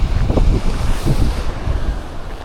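Surf washes ashore and wind buffets the microphone at a New Zealand beach before a dive, a loud, continuous roar of breaking waves with gusty rumble and no one speaking.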